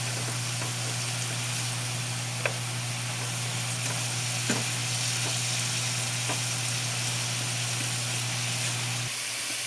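Milkfish steak mixture with fish sauce sizzles steadily in a hot pan, a dense close hiss over a low hum, with a few faint clicks of a utensil stirring it.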